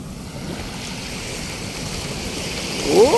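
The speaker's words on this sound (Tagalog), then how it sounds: "lumalakas kasi yung alon dahil sa umihip yung hangin" Waves wash steadily along the shore of Manila Bay at Dolomite Beach, pushed up by the wind, ending in a louder surge of surf.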